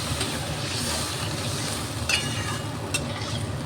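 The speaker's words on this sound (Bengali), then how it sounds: "কষানো হয়ে গেছে, এবার দেবো জল" Spice paste frying in oil for a Bengali dhokar dalna gives a steady, close sizzle and bubbling, with a few sharper hissing bursts as water is poured in and stirred.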